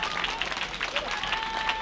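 Steady, dense applause from a crowd greeting marathon finishers at the finish line of the Aargau Marathon, continuous clapping with a murmur of voices mixed in.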